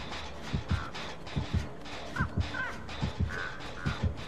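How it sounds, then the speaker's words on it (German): Crows in the Dead by Daylight video game caw repeatedly in short, loud, irregular calls, with several caws close together against a dim ambient background and no talking. "Weil die Krähen verraten ja meine Position noch"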